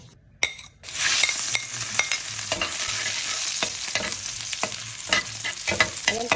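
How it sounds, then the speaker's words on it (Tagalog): Floured chicken, seasoned and dredged in flour, frying in hot oil with a steady, dense sizzle, punctuated by clinks and scrapes of a utensil against the pan, close and fairly loud with no talking. "Tapos magprito to tayo ng chicken."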